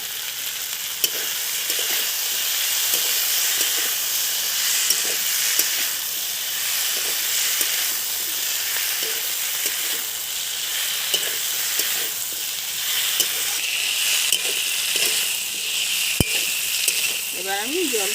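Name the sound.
potatoes sizzling as they are added to a frying pan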